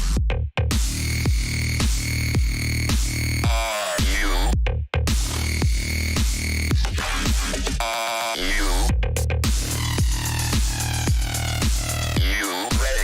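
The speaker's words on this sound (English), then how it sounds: "today's video I'm going to show you how to make the lead sound to our newest single" A synthesizer lead built from an FM wavetable in Serum, pulsing in a loud, dense rhythmic pattern with gritty wobbling sweeps and brief dropouts, playing alone without any voices.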